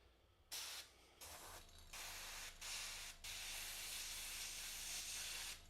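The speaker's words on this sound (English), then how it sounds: "we're going to use the airbrush very quickly into this scheme" An airbrush sprays paint onto a miniature in a series of close, steady hissing bursts, the short early ones giving way to a long continuous spray, with no voices.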